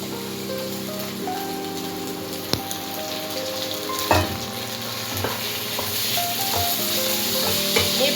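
Soaked sago is stirred into fried spices and vegetables in a pan, making a soft continuous sizzle broken by a few sharp spoon knocks against the metal, with gentle music underneath.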